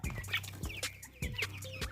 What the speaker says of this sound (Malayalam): ഇതാ കോഴി മൊത്തം താറാവിൻ്റെ പാത്രത്തിൽ കയറിയിട്ടാണ്